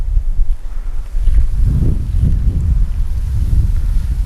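Strong wind buffets the microphone in gusts at an outdoor fishing venue, a low roaring rumble that swells and fades continuously.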